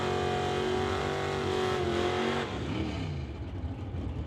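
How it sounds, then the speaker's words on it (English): A 1977 Chevy Nova with a small-block Chevy engine drag racing at Mission Raceway roars loudly at high revs, holding a steady engine tone before the pitch drops and fades as the car pulls away. "77 Nova, small block Chevy."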